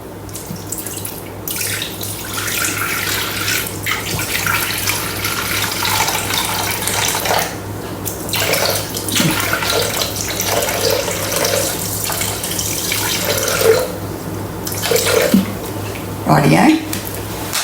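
Water, 500 grams, is poured into a clean, dry Thermomix mixing bowl, a steady splashing pour running for much of the time, close by, with a person talking intermittently over it.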